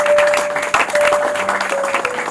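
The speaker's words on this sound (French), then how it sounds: "Tu peux acclamer la parole." Congregation at a Congolese wedding service in church applauding loudly and steadily, a close, dense burst of clapping over a held keyboard tone.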